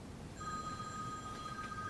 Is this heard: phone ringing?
yes